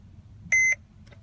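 A single short electronic beep sounds from a 2010-onward Mercedes Sprinter dashboard during a service light reset, a clean tone standing alone over quiet background hum.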